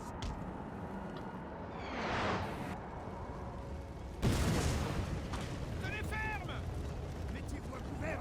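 Artillery guns fire during a Napoleon Total War battle, with two heavy booming bursts about two seconds apart over a steady din of battle noise, while someone talks over it.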